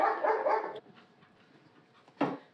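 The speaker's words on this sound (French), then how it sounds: "Pardon, excusez-moi, c'est le chien qui aboie." A dog barks indoors, a loud bark at the start and another burst near the end, with a quiet gap between them.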